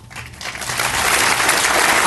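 Conference audience applauding, a broad dense wash of clapping that swells after a quieter start and stays loud and sustained throughout.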